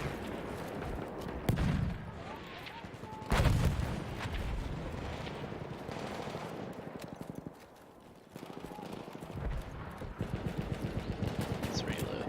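Tripwire bombs go off in Battlefield 1 combat, with sharp explosive bursts amid continuous battle noise, gunfire and a voice speaking over the mix.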